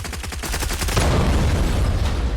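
Rapid gunfire in the shooter game Zula, a fast rattling string of shots for the first second, then a dense, loud wash of continued firing and blasts.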